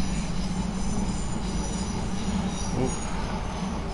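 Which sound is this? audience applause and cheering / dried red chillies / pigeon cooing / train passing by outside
train passing by outside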